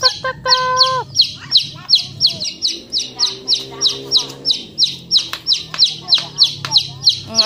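A flock of chickens clucks and chirps busily at feeding time, close and loud, with rapid repeated calls throughout and a person calling to them.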